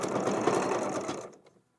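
A sewing machine stitches the binding on a log cabin quilt in one close, steady burst that stops abruptly after about a second and a half.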